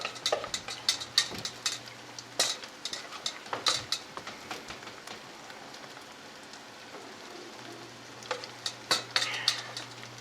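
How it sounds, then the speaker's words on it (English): Canned chicken meat being stirred into pancake batter with green onions, giving a steady wet scraping and squelching texture with repeated soft clicks of the utensil against the bowl, close and fairly quiet, with no talking. "now we're adding the meat to the pancake mix batter. Going to stir that around"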